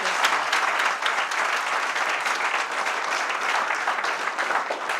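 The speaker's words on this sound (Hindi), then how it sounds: "चाहूंगा एक बार जोरदार तालियां हो जाए सर" Loud, dense applause from an audience at a celebration event, continuous clapping throughout with no pauses and no voices over it.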